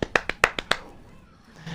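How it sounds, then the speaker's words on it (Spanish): Six quick hand claps from a single person during a Resident Evil 3 Remake livestream, sharp and close in an uneven rhythm, then a brief pause before a voice begins. "Aplausos, por favor, aplausos, aplausos"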